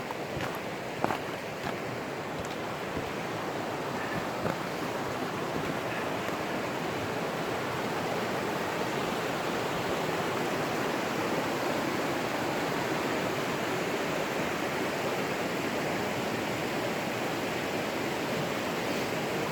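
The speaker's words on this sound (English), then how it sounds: "Yeah, another step in the river." A river in Brattfallet, Värmland, pours over a stepped drop-off, giving a steady, broadband rushing roar that stays constant and close throughout with no talk.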